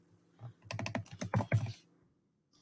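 Rapid bursts of keystrokes on a computer keyboard, close and fairly loud, typed in an uneven flurry, then a pause with a final tap near the end.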